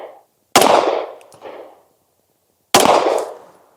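Two loud, sharp 9mm shots from a Sig Sauer X-Five pistol firing remanufactured Capital Cartridge 115-grain ammunition, each crack followed by a decaying ring, spaced about two seconds apart outdoors with no talking.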